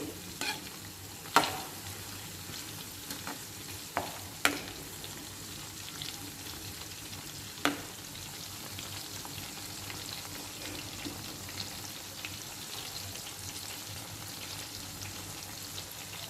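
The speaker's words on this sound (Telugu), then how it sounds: "ఇప్పుడు మంచిగా కాలుతున్నాయి కదా మనం అటు ఇటు ఇట్లా ఒకసారి టర్న్ చేసుకోవాలి తిప్పుకోవాలి" Prawn pakodas frying in hot oil, a steady close sizzle with occasional clicks and taps as the pieces are turned, no speech.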